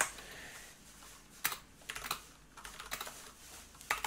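Typing on a computer keyboard propped up at a desk, irregular bursts of crisp key clicks and clatters close by, with short pauses between runs and no talking.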